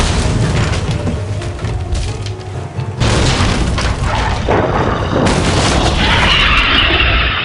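Depulso spell effects in the Harry Potter and the Prisoner of Azkaban PC game: loud, dense bursts of magical booms and thuds with a sharp blast near the midpoint, followed by a hissing, shimmering swell at the end.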